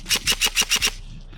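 A G&G SGR 556 airsoft electric rifle fires a quick burst of six evenly spaced shots, each a sharp, close mechanical crack with motor whir underneath, followed by a short quiet tail.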